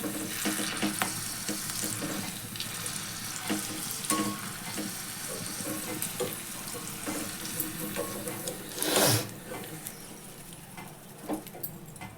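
Pieces of fish sizzle and crackle in hot oil, a steady close frying hiss with occasional stirring clinks and a sharper burst partway through.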